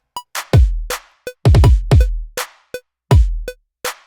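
Layered clap sample in a hip-hop beat, sharp bright claps landing on a regular rhythm among booming kick drum hits and ticking hi-hats, loud and punchy with no talking.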